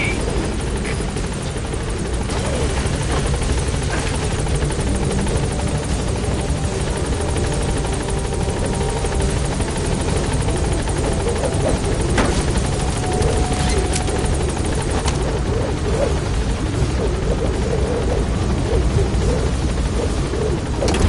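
The Pequod helicopter from Metal Gear Solid V hovers and flies, its rotor drone loud and constant for the whole stretch, with faint game effects and no voices on top.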